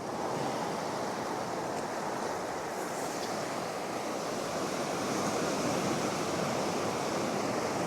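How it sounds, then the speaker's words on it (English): Sea waves break and wash continuously on a beach at Ryhope in North East England, a loud steady surf roar with some wind, no voices. "Look at them waves. That ain't a bad little swell."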